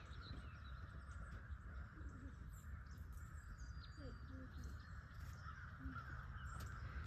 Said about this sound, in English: I guess they're ducks in the distance or birds of some sort